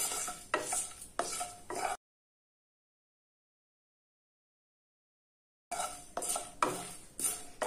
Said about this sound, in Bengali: এবার আমি এই শুকনো লঙ্কা এবং কালো জিরেটা ভেজে নেব।